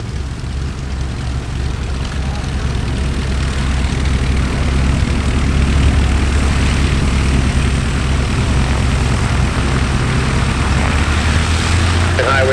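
A high-wing Cessna propeller plane arriving in a crosswind at EAA AirVenture Oshkosh 2019 gives a loud, steady low engine drone that holds unbroken throughout.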